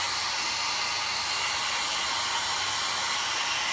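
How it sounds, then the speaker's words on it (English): A hair dryer blows continuously nearby, drying a crackle paint finish, a steady loud rushing hiss with a low hum underneath and no talking. "It's gonna get noisy because I need to put the hairdryer on."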